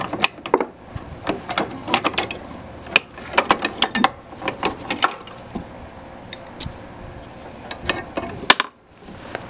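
A bolt is worked free from a lawn mower steering drag link, giving close, irregular metallic clicks and ratcheting taps in quick clusters, and ending with a sharp knock as it drops out. No one speaks.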